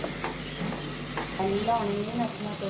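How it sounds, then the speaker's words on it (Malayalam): Tomatoes spluttering in hot oil, a busy sizzle with a few sharp pops and faint clinks of stirring, close by. "തക്കാളി ഇടുമ്പോൾ തക്കാളിൻ്റെ വെള്ളം കാരണം പൊട്ടിത്തെറിക്കുക അല്ലേ"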